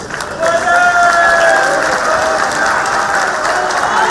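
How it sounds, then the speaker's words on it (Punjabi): A standing audience applauding together, a dense continuous wash of clapping that swells after a quiet start and stays loud and even to the end. "ਸਾਰਿਆਂ ਨੂੰ ਮੇਰੀ ਬੇਨਤੀ ਹੈ, ਖੜੇ ਹੋ ਕੇ ਇੱਕ ਵਾਰੀ ਤਾੜੀ ਮਿਲਾ ਕੇ"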